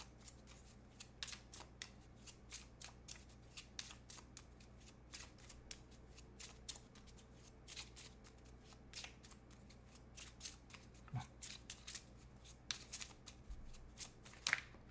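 Tarot cards are shuffled before a Moonology card is drawn. Quick, crisp riffling and flicking bursts repeat close by for fifteen seconds with no talk.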